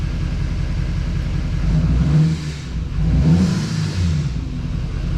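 The engine of a 2015 car idles steadily while it warms up after a thermostat and temperature sensor replacement, giving a continuous close rumble with slight swells in revs.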